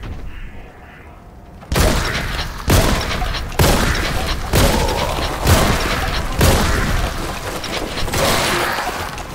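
Rapid gunfire and heavy explosions from the Warhammer 40K Boltgun shooter game, a loud barrage of repeated booming blasts about once a second after a brief quiet start, with heavy continuous rumble between the hits.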